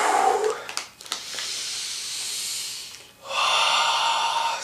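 A person takes long, loud, close sniffs of Cheetos Crunchy cheese snacks, three drawn-out inhalations separated by brief pauses.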